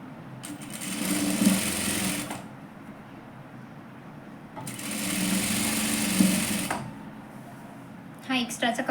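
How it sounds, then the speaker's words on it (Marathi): Sewing machine stitching a folded seam on a katori blouse, with two long, steady runs of rapid mechanical whirring separated by a quieter pause, followed by a few brief clicks. "आणि हे शिवून घ्यायचं."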